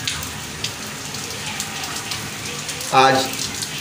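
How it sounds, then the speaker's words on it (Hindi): Steady rain falls in Sehwan Sharif, a constant hiss of drops on surfaces under a voice, with a brief louder splash near the end. "बरसात शुरू हो गई है।"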